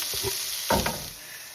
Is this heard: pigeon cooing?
no